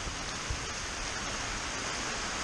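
Heavy pouring rain in a Florida storm, a dense, steady wash of broadband noise that stays loud and even throughout with no voices.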